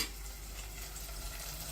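Chili powder and turmeric frying with cooked-down tomatoes in a pan for a dry fish curry, a steady soft sizzle with faint stirring, close and continuous, no voices.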